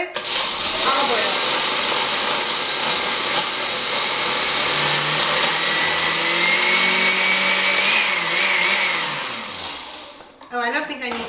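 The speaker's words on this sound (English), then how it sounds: "Okay, so we're just going to puree this." A blender purees sun-dried tomatoes, pine nuts, garlic, oregano, salt and olive oil: a loud, steady motor whir that holds for about ten seconds, drops briefly in pitch, then stops abruptly.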